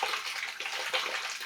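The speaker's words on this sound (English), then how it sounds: "Alright, water's getting into the barrel." Spring water flows steadily into a barrel through a water system, a close, continuous hissing gush with small splashy fluctuations and no voices.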